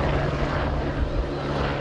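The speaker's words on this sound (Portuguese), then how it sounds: "além de um helicóptero." A helicopter flies over a penitentiary, its steady, dense rotor and engine roar filling the air continuously without pause.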